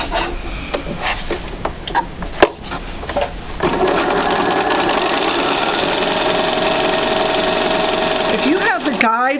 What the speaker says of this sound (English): we're going to sew 1/4 inch on either side of that line